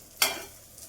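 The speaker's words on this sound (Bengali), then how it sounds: "এখানে কুঁদরি দিয়ে খসলা ভাজা হচ্ছে" Ivy gourd (kundri) frying in a pan, a single short burst of sizzle as it is stirred, fading quickly into a faint background hiss, with a slight second swell near the end.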